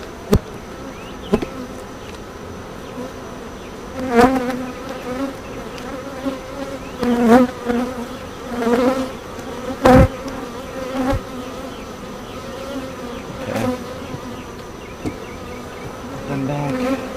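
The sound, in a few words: honeybees buzzing around an open hive brood frame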